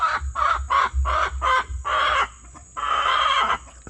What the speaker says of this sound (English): Chicken's wanting a bite.